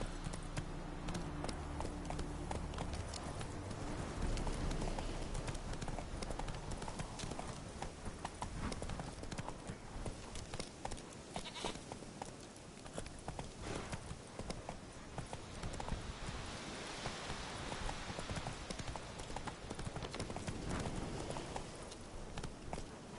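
Roach, Geralt's horse in the Witcher 3 video game, gallops with a rapid, steady clip-clop of hooves running throughout, fairly faint, with a voice occasionally spurring the horse on.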